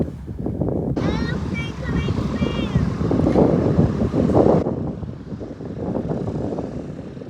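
Piper Twin Comanche engines droning steadily in flight on a stormy January day, a loud constant cabin roar with a faint tonal whine, and a voice is heard over it.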